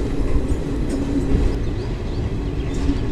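Samta Express train rolling into Vizianagaram station, a steady, loud rumble of wheels and carriages with faint clatter running throughout, no voices.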